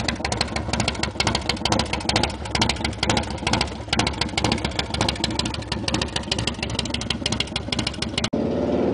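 A 2006 Harley-Davidson FXSTB Night Train engine with 10.5:1 compression and a stroker cam idles low and steady with a lumpy, loping rumble, loud and close, continuing without pause until a brief cut near the end.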